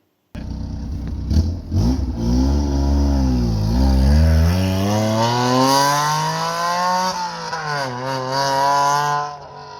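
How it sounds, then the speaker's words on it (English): A small Honda Beat scooter engine with a custom exhaust revs hard and climbs in pitch through several rising sweeps, loud and close, with a raspy exhaust tone and no talking. "custom exhaust is off. It sounded okay. Here's a clip of me accelerating."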